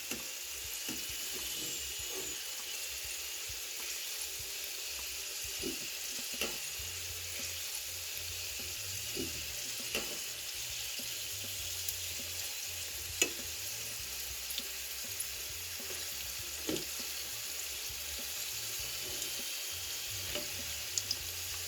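An aloo matar snack fries in a pan over a low flame, with a continuous, even sizzle and crackle throughout, punctuated by occasional faint clicks and scrapes.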